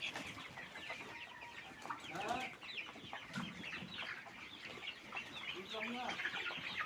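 Chickens on a poultry farm, many birds clucking and calling over one another in a dense, continuous chorus, fairly close with faint rustling among them.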